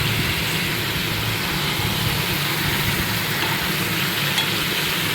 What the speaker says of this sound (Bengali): এইবারে আলু আর চিকেন ভালো করে মিক্স করে নিচ্ছি।